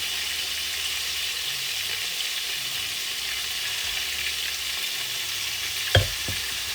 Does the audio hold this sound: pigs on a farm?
no